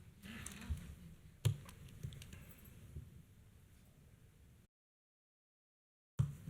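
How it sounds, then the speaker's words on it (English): Typing on a computer keyboard during a township zoning appeals meeting: soft, uneven key clicks and taps in a quiet room, a few sharper hits, then a brief dead silence before the sound resumes. "We're gonna see David's typing skills here."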